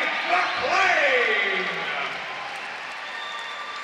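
Crowd applause and cheering at a CWC cage fight after a choke submission, a broad wash of noise fading gradually over several seconds beneath a commentator's voice.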